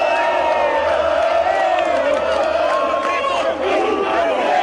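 Organized Cruzeiro supporters cheer at a volleyball match in Manaus, a loud, continuous crowd roar with chanting voices sustained throughout.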